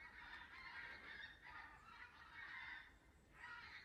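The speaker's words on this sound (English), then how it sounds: "That's geese, obviously" Geese honking in the woods, a faint, distant series of repeated nasal calls rising and falling over a soft outdoor hiss.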